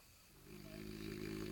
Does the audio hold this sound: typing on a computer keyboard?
no